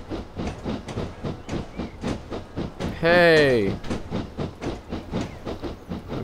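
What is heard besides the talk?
7F steam train running in Train Simulator 2014 video game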